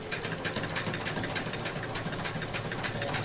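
A sewing machine runs fast and continuously while stitching through thick quilt layers, giving a steady rapid whirring chatter, close and even throughout.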